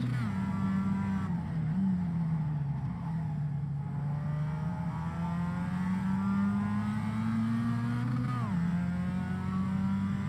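An MX-5 Cup race car engine in the iRacing sim drones loudly and continuously, its pitch climbing gradually with brief dips around gear changes or lifts off the throttle.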